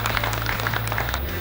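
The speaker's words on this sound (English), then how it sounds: "Can we have a big round of applause?" Audience applause at the 2019 CStore trade expo for convenience stores in Raleigh, North Carolina: a short burst of dense clapping that fills the hall at a steady level, with a low hum running underneath.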